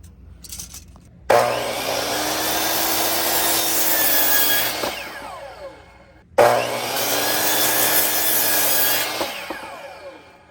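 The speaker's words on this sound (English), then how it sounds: "Now let's cut 2 more pieces at 11 inches." Hand saw cutting a cedar fence picket, two long continuous sawing passes, each ending as the piece drops free, close and loud with no talk.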